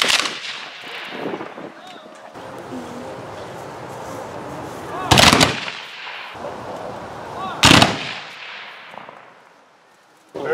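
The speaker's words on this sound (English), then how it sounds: "Following behind them will be the military cannon salute from the Confederate Memorial Cannon Crew" A military cannon salute by a Confederate memorial cannon crew at a memorial dedication: two loud, sharp booms about two and a half seconds apart ring out over an outdoor crowd, each followed by a fading echo.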